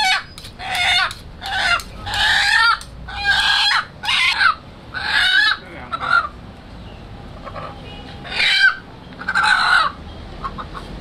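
Two roosters crow and cluck repeatedly in loud, close bursts with short pauses, before a sacrifice by a priest.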